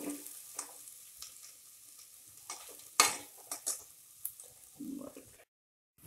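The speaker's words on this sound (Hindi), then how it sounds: "तो बस तहरी में हम इतना ही सब्जी भूनते हैं।" Vegetables for veg tahari sizzle quietly in a pressure cooker while a spoon scrapes and stirs in several short strokes, ending in silence.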